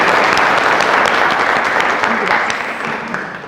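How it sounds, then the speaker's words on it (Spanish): Loud audience applause welcoming the presenter at a herbal medicine book launch, a dense sustained clapping from a crowd that slowly tapers toward the end. "Le damos la bienvenida y un fuerte aplauso."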